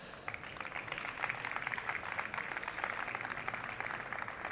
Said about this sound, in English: Joan, and we can applaud Joan.